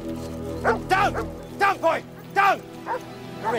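A male dog barks in short, excited bursts and whimpers between them at close range, about five loud yips over a few seconds, with voices underneath.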